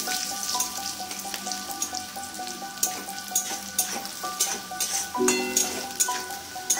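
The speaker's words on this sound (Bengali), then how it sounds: "পেঁয়াজটা ভাজা হয়ে গেছে এরকম ভাজা হবে" Sliced onions fry in hot oil with salt, green cardamom, cinnamon and cloves for a fish curry, a steady close sizzle with occasional stirring scrapes and clinks of a spoon against the pan.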